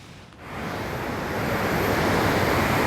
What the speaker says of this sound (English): So I'm at Ly Waterfall.